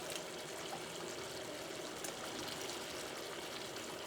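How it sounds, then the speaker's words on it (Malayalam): Water poured from a jar into a pot of cherupayar (green gram) curry, a steady trickling pour lasting several seconds at moderate, close level with no talking. "ഞാൻ ഈ ജാറിൽ കുറച്ച് വെള്ളം ഒഴിച്ചിട്ട് കുറച്ച് വെള്ളം കൂടി ചേർക്കുന്നുണ്ട്"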